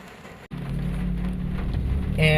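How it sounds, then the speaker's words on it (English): Rain falls steadily outside a low-cost socialized housing subdivision in Carcar City, Cebu, a loud constant hiss of nearby downpour that swells slightly toward the end. "it's raining now"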